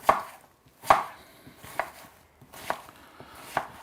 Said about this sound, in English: you don't want to chop your onion too fine